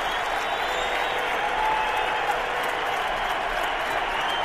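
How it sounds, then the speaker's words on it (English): Football stadium crowd at a Browns versus Patriots NFL game in 2007, a loud, steady roar of cheering and applause that fills the whole stretch without a break. "And listen to the crowd."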